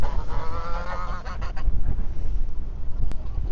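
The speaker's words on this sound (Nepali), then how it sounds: "कस्तो दामी रहेछ हाँसको बच्चा र माउ" A mother duck with ducklings at a coffee shop in Korea gives loud, close, nasal honking calls for about a second and a half. Steady background noise continues afterward.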